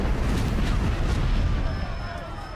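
Gunshot from a Secret Invasion TV episode, a loud, close burst with a booming rumble that decays over the clip, no voices.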